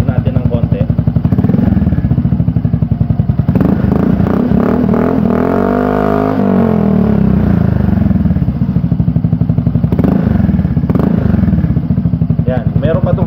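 Yamaha Fazzio 2024 scooter fitted with an Akrapovic exhaust, engine idling close by with a few throttle blips rising and falling, loud and steady throughout.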